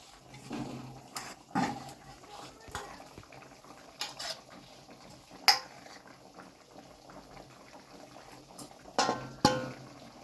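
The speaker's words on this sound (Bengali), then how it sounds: "এবারে গামলাটাতে যে মশলাটা লেগে রয়েছে সেটা কেচে কেচে দিয়ে দেবো।" Leftover masala gets scraped from a mixing bowl into a pan of frying coriander katla fish, with scattered clinks and scrapes of a utensil against the bowl over a quiet background of low bubbling.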